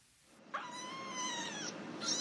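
A single kitten gives a long, high, wavering meow close by, followed by the start of another cry.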